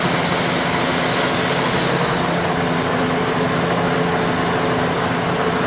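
A sewing machine stitching polyester fabric runs in a steady, unbroken drone with a faint motor hum, holding at one constant level from start to finish.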